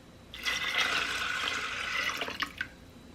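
Water pours from a tap over dried beans in a cooking pot in one steady gush of about two seconds, then tapers into a few close, splashy drips.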